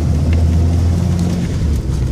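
A turbocharged L28ET inline-six in a 1970 Datsun 240Z runs loud and close during throttle tuning, a heavy low droning engine tone holding steady for two seconds with a slight dip near the end.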